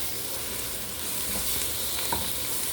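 Garlic fries in a pan for a stew, a dense, fairly loud sizzle that runs unbroken, with light stirring scrapes and a small clink near the end.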